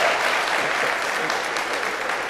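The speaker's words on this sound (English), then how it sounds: "Audience, we don't have to applaud everyone." Audience applause at a Rhode Island governor's race debate: steady, dense clapping from a crowd filling the whole moment at even loudness.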